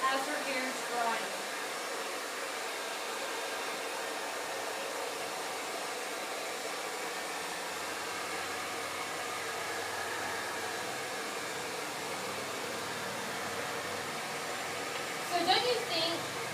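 Hair dryer running steadily on high heat through a small airflow nozzle during a salon styling session, a continuous whooshing hiss throughout, with a brief clatter near the end.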